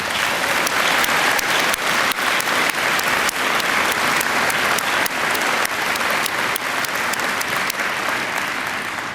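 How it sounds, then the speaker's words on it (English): A large crowd claps steadily and loudly at a college graduation ceremony in a field house, a dense sustained round of applause with no voices over it. "Let's give them a round of applause."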